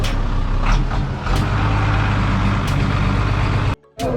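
A truck edges through a crowded, noisy Moroccan street market, its engine rumbling loudly and continuously with brief sharp hissing bursts over the street din, then a sudden drop near the end.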